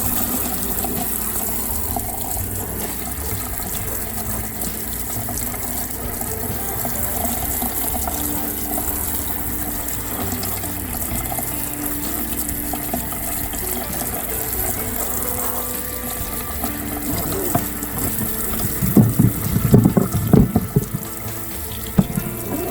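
Tap water runs steadily into a kitchen sink while pears are washed, a continuous even rush with some louder splashing and clatter near the end.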